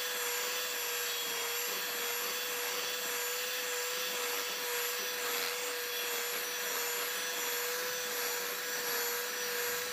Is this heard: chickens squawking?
no